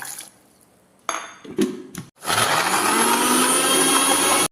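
An electric mixer grinder whirs steadily after a couple of brief clunks, blending beetroot and carrot with sugar, lemon juice and water into a healthy juice, loud and continuous with no talk.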